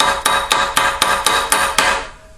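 A bolt struck repeatedly with a hammer to set a rivet in an M17 American helmet liner: seven evenly spaced, loud metallic taps, each ringing briefly, close by with no speech.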